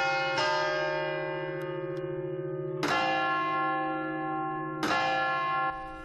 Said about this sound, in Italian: i rintocchi della Torre delle Ore sono tornati a segnare lo scorrere del tempo a Lucca